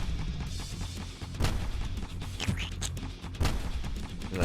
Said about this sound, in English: Luckily now we got the extendo range with the Gatling cannon, so it should be able to start firing very early.